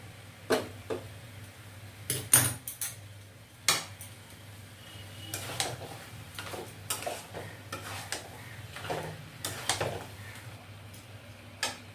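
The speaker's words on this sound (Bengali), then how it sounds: "অল্প অল্প দুধ দেবো আর কষাবো।" Mutton for a royal-style curry being stirred in a pot as milk is added little by little, with irregular scrapes and utensil clinks against the pan over a low background hum, no talking.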